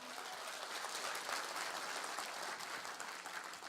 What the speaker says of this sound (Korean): 권선택 시장님을 지지하는 큰 박수 부탁드리겠습니다